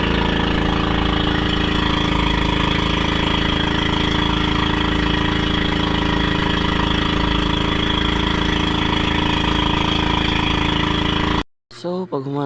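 A small boat's engine drones loudly and steadily for about eleven seconds on a trip out to a whale shark area, then cuts off abruptly, and a brief bit of talk follows.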